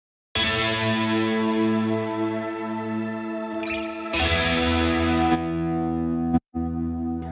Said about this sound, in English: just the chorus and the washy reverb